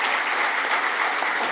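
Rapturous closing applause from an audience thanking Carmel Johnston, a Mars simulation crew member, after a talk in Melbourne, steady dense clapping throughout at moderate volume with no voices.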